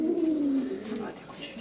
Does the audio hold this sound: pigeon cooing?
yes